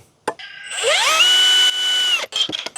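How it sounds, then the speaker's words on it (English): A CEENR cordless battery drill in speed 2 drill mode bores with a 1/2 by 18-inch auger bit, its motor whine rising in pitch then holding steady and loud for over a second before cutting off, with brief clunks around it. "Now, what about something like this big auger bit?"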